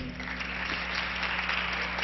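Legislators in a parliamentary chamber applaud, a brief, even patter of clapping over a low steady hum of the room.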